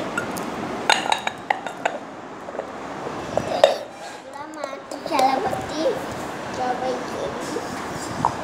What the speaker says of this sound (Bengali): এখন দিয়ে দেবো প্লেটে